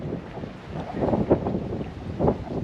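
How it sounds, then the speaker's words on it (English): Strong gusting wind on the shore of Madeline Island buffets the microphone, a steady roar that swells into heavier gusts, with no voices heard. "The wind is really strong."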